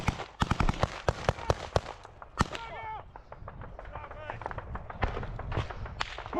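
Sharp cracks and bangs of combat in a trench, where a frag grenade goes off among rapid gunfire and a burst of loud reports, with people shouting and running nearby.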